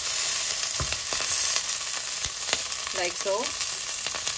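Green chilies sauté in hot oil, producing a continuous close sizzle broken by sharp spluttering pops and a few stirring scrapes, while a voice speaks briefly.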